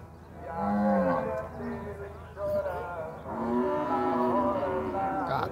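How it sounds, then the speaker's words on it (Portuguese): Many cattle moo repeatedly in long, low drawn-out calls at a livestock market in Campina Grande, Brazil, several animals overlapping, loud and close against a murmur of background noise. "É um gado, pessoal."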